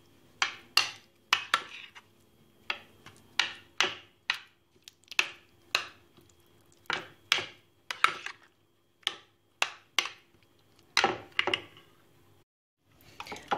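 A spoon stirs a cooled butter and mint mixture into haydari, a Turkish yogurt dip, in a bowl, making about twenty sharp clinks and scrapes against the dish in an uneven rhythm, close and clear with no talking.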